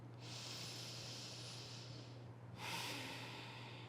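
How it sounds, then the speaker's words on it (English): Deep breathing during a yoga session: two long, slow breaths, each a soft, airy rush, heard close and quiet over a low steady hum. "One more deep breath here."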